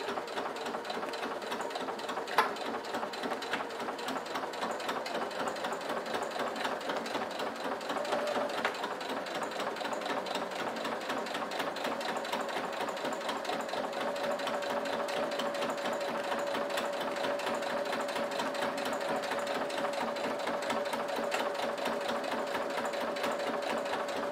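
A sewing machine runs slowly and steadily, sewing a seam on a pouch, its rapid close rhythmic needle clatter continuing evenly throughout without pause or voices.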